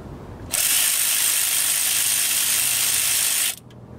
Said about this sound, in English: Remove these bolts.